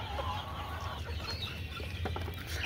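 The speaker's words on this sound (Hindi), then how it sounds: "ये देखें मुर्गी थोड़ी है और मुर्गे देखें माशाल्लाह" Golden Misri chickens, a flock of hens and roosters, cluck softly at a farm, with short scattered calls over a low steady background hum and no talking.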